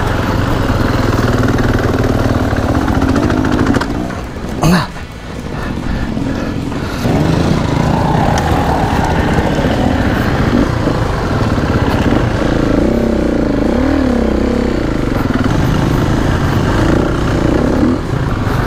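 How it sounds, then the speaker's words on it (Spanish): An enduro motorcycle engine runs loudly nearby with a deep, throaty low end, rising and falling through revs with a brief sharp burst partway and a warbling pitch swing near the end. "es brutal los bajos que tiene esta moto"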